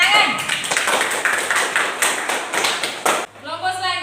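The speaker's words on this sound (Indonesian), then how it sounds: "Tepuk tangan." Classroom children applaud together in a dense, steady burst of clapping that lasts about three seconds, then stops abruptly as an adult voice begins speaking.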